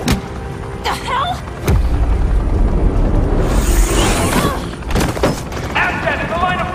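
Gunfire in Batman: The Enemy Within cracks in loud, sharp bursts and booms with a tearing, sustained volley in the middle, mixed with voices and other game action.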